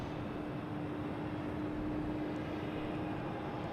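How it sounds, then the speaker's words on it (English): British Airways airliner taking off at Logan airport at dusk, a steady broad roar of jet engines heard at a distance, constant and unbroken throughout with a faint droning hum, no talk. "And British Airways should be taking off."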